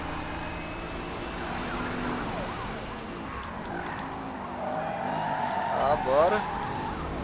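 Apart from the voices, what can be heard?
police car siren in a chase, from video game NFS Rivals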